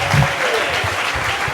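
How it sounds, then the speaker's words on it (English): A story slam audience claps steadily and loudly throughout, a dense sustained applause with a few voices audible underneath. "And keep that applause going for Dave."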